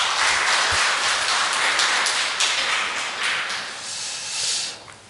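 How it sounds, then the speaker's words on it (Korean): Church congregation applauding a Gloria vocal ensemble during a Sunday worship service, a steady wash of clapping that swells and fades over about five seconds. "격려의 박수 부탁드립니다"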